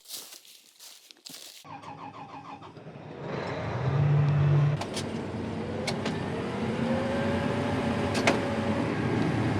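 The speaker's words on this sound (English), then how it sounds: "now I actually get to run my own combine a little bit again" A combine harvester heard from inside the cab starts up, then settles into a steady, loud engine drone with a faint whine and occasional clicks.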